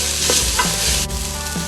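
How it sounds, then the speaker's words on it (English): Garlic and ginger go into a pan of softened onions for a West African chicken stew and fry with a loud, steady sizzle close by, broken by a few stirring scrapes, with no one talking. "We're going to throw our garlic in and our ginger, and cook for a minute or two until fragrant."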